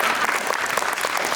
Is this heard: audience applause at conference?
yes